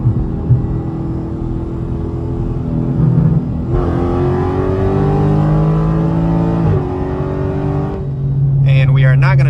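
A Dodge Challenger Scat Pack accelerating hard from 60 mph in drag mode, a loud deep engine roar climbing in pitch with a clear gear shift partway through, heard from inside the car.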